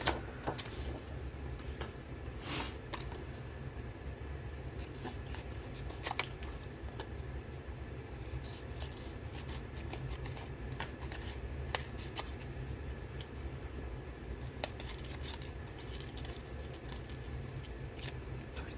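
Small scissors snip paper while a lapbook specimen folder is assembled, giving a steady run of close, crisp cuts and clicks over a low background hum.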